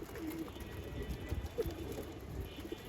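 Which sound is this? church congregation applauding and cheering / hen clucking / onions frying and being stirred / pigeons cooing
pigeons cooing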